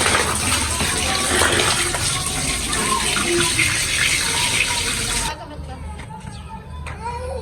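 Food being washed in water to take out its bitterness: running water gushes and splashes loudly for several seconds, then gives way to quieter drips and handling, with voices in the background.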